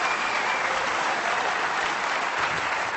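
A snooker crowd bursts into steady, sustained applause after a brave stun shot at a world championship semi-final, dense clapping with no voices over it.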